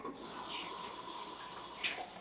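A banana bread smoothie is poured into glasses, a soft continuous liquid pour that rises briefly in a sharper splash near the end, close and fairly quiet, with no one talking.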